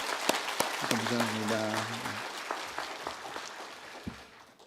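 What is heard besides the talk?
church congregation applause of welcome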